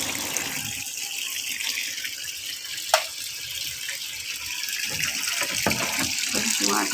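A household tap runs steadily, with water gushing into a tub as clothes are being washed with detergent powder. The rush holds an even level throughout, broken by one brief sharp knock.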